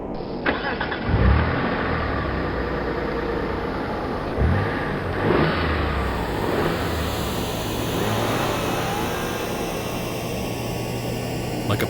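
A car engine starts and revs as the car accelerates, a mid-pitched roar with a few surges across twelve seconds, used as an audio drama sound effect.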